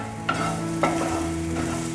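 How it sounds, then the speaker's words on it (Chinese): Lemongrass is stir-fried in a little oil, making a close, steady sizzle with two sharp spatula scrapes against the pan and no talking. "锅内倒入少许油，把香茅放进来炒香"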